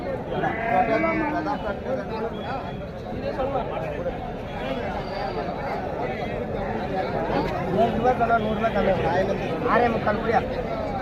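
Young goats bleating repeatedly at a crowded goat market in Pochampalli, with overlapping cries rising above constant chatter and traders talking nearby.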